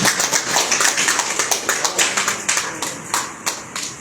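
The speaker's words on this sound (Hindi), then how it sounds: "आप सभी लोग जोरदार तालियों के साथ स्वागत करें।" Audience clapping in welcome at a gathering, a close, fairly loud run of distinct claps from a small group, with no talk over it.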